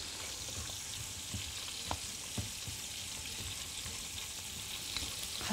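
Food fries quietly in a pan with a soft, even sizzle, broken by a few light taps and scrapes as pieces are flipped, faint and close.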